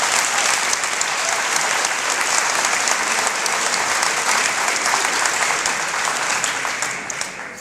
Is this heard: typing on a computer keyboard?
no